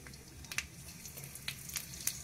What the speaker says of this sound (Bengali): এখানে গোটা মৌরি দিয়ে দিলাম।